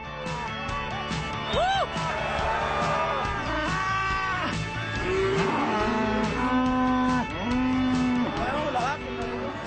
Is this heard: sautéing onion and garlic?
no